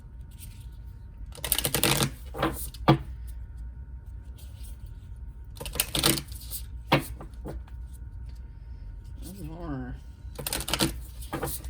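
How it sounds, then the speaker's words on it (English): A deck of cards is shuffled in several brisk riffling bursts separated by pauses, close and crisp, with a person speaking briefly between them. "Let's shuffle."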